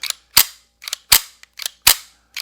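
Slide and bolt of a Ruger Mark IV pistol being worked by hand during cleaning: a series of sharp, close metallic clacks, several loud snaps alternating with lighter clicks, separated by silence.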